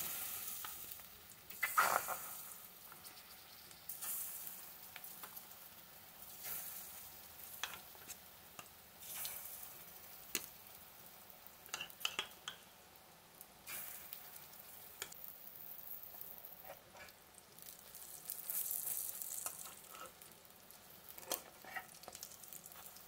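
Oil fries quietly in a pan for a pumpkin-leaf dish while a spoon scrapes and stirs, giving faint continuous sizzling with scattered clinks and scrapes throughout.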